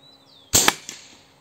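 An air rifle with a 600 mm Fiora barrel fires a single Slug Monster slug outdoors, a sharp close crack with a brief echoing tail and a faint follow-up tick.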